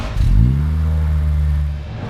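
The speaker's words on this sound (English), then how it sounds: "this feeds air to the turbocharged Honda engine" A turbocharged Honda engine in an Ariel Atom 4R revs sharply once, then holds a loud, steady, deep drone close by before easing off, with no talk over it.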